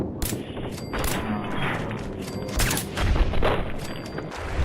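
Gunfire from Gunner enemies in the video game Fallout 4, rapid bursts of shots and booming impacts firing in quick succession, loud and close, with mechanical clatter between the volleys.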